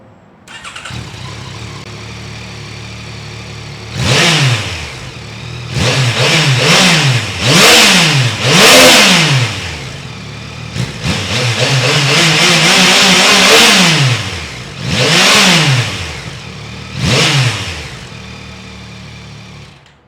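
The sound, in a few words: Yamaha MT-09 motorcycle engine revving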